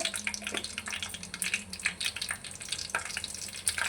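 Mustard seeds sizzling in hot oil while bitter gourd curry is being made, a fairly faint, close crackling hiss with scattered small pops, continuing without any talking.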